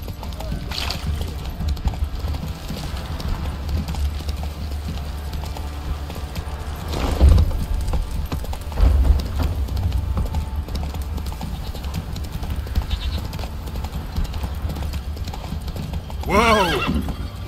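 In The Witcher 3, Geralt's horse Roach gallops with rapid rhythmic hoofbeats, loud and close, throughout the scene. Sharp whinnies break through around the middle and again near the end.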